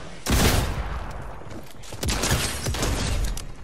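Gunfire in a shooter video game with a gold sniper and flare gun nearby, a loud sustained burst of rapid shots with sharp cracks on top, close and dense, while a player talks faintly underneath.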